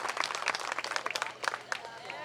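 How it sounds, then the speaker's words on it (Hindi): An audience at a Vishwakarma drama and arts council stage event bursts into loud, dense applause, many hands clapping close and steady throughout, with voices mixed in. "इसलिए जोरदार ताली सत्तार जी के लिए।"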